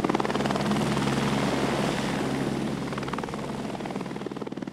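A state government helicopter flies over a mountain wildfire zone, its rotor thumping steadily and loud throughout, slowly easing a little in level as it passes, with no voices.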